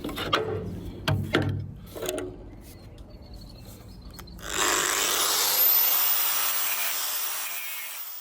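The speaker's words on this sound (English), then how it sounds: "we just better grind some of this slag off" Angle grinder grinding weld slag off a rusty steel boat hull: a few short scraping bursts, then a loud, steady, close grinding roar that runs on without talk.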